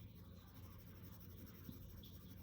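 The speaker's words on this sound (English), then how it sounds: "Now I'm using the side of my pencil" The side of a pencil lead shades across paper for a pencil self-portrait, a soft, continuous, quiet scratchy rasp with no voices.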